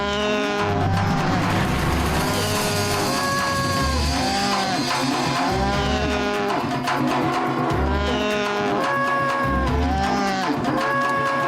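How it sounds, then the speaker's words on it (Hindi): Several cows mooing at midnight in a cattle shed, long, loud, overlapping calls repeating over a continuous dense bed of sound with no talk. "हाँ श्रीधर, पता नहीं अचानक सारी गौएं मध्यरात्रि में रंभाने क्यों लगी?"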